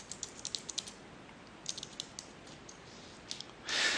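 Keys tapped on a computer keyboard while entering a Google search, light quick clicks in bursts with short pauses between, a louder rustle or clack at the very end.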